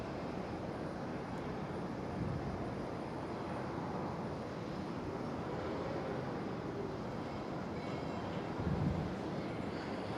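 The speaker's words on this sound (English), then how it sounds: "Right there, Bulgarian Air A220. Takeoff from runway 18 left." A Bulgarian Air Airbus A220 takes off from runway 18 Left at Amsterdam Schiphol, heard as a faint, distant, steady jet roar with a broad rumble that swells slightly near the end.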